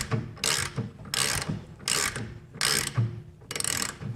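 A ratchet wrench tightens bolts on the master cylinder of a 1972 VW Super Beetle, giving five quick, close rasping clicks in even bursts with short pauses between strokes.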